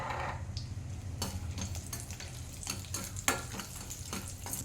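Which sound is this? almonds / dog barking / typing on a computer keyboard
almonds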